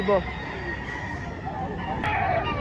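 A gamefowl rooster gives short calls at a poultry market in Lipa, Batangas, moderately near and partly under people talking in the background.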